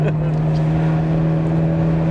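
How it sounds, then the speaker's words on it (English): The naturally aspirated V8 engine of a 2001 Ferrari 360 Spider drones steadily with a strong low hum, heard from inside the car at a constant pitch. "Not much sounds like a naturally aspirated Ferrari V8"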